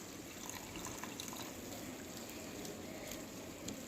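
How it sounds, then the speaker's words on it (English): Water pours into a cooking pot of peppered steak, a faint, steady trickle and splash running continuously and alone. "I'm just going to add a little more water"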